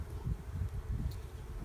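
Honeybees buzz on a frame during a spring hive inspection, a faint, low, steady hum with gentle pulsing and no voices.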